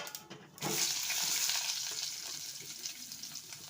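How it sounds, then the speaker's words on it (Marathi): Eggplant sizzling in hot oil with cumin in a wok, a steady close hiss of frying that swells after a brief pause and carries on alone. "आता मस्त कढईत आपण टाकून घेणार आहात तेल नंतर टाकून घ्यायचं जिरं नंतर मस्त हे वांगे टाकून घ्यायचे"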